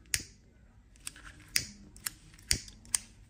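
Scissors snip off the excess tape wrapped five or six layers around a wire splice, giving six sharp, close cuts spaced about half a second apart in an otherwise quiet room.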